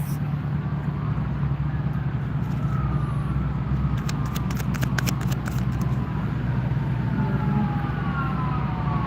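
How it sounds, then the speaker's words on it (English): A distant emergency siren wails up and down over steady traffic rumble, faint but continuous. "That's like the third siren I've heard."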